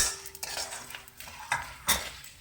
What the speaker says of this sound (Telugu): జీలకర్ర, ఆవాలు, కరివేపాకు వేసుకొని మనం ఫ్రై చేసుకోవాలండి